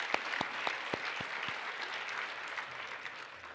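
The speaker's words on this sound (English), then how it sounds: "a round of applause for the staff here at Music Hall" Applause at a National Philanthropy Day luncheon in Cincinnati's Music Hall, a large audience clapping steadily in a big room, with a few sharp nearby claps standing out at the start and the sound staying fairly even throughout.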